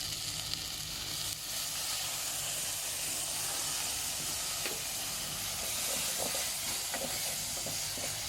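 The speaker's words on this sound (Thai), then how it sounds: "เราก็เติมน้ำลงไปนะครับ เราจะได้ผัดง่ายนะ" Water poured into a hot pan while stir-frying beef in red curry paste, a loud steaming hiss and sizzle that persists throughout, with scattered clicks and scrapes near the end.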